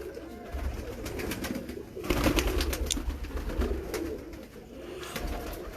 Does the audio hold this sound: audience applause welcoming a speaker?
no